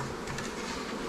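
Honeybees buzz around insulated hives on an Alaskan homestead, a close, continuous drone lasting only about a second.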